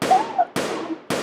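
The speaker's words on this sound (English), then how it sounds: "That gunfire?" Three sharp, loud handgun shots about half a second apart, each with a decaying tail, over faint background noise, heard through an emergency call recording.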